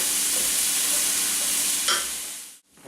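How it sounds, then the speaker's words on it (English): Minced shallots fry in a pan with a loud, close, continuous hissing sizzle. A brief stirring scrape comes near the end before the sound cuts away. "into my pan, and we're just going to cook our shallots first for a few minutes"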